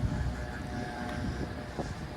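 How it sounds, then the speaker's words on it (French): Wind blows outdoors across a microphone beside an Audi S3 sedan, producing a steady low rumbling buffet and broad hiss that lasts throughout without pause. "c'est le vent."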